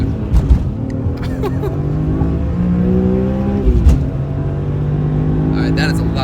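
A 650 hp BMW M3 under heavy boost, its engine droning loud and steady with rising revs, while people talk over it in the cabin.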